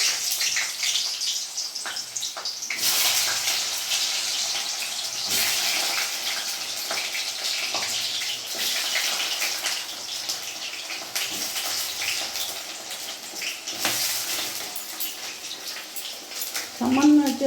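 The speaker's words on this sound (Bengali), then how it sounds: "তেল গরম হয়ে গেছে, এখন আমি বেগুনগুলো ভেজে নেব।" Eggplant pieces seasoned with a little salt and turmeric fry in hot oil, giving off a loud, steady hissing sizzle that lasts the whole stretch, with a voice talking over it now and then.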